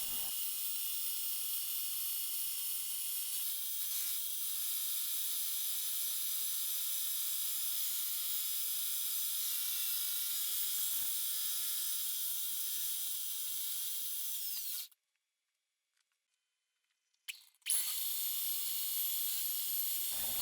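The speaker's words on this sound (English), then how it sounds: "The shell mill leaves a beautiful finish on this brass." Bridgeport milling machine running a shell mill under power feed to face solid brass stock for a door strike: a steady, loud high cutting whine for about fifteen seconds, a brief pause, then the whine resumes.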